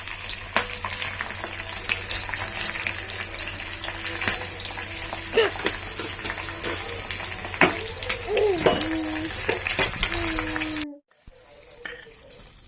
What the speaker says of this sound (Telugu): నాకు తాలింపులు పెట్టడం చాలా ఇష్టం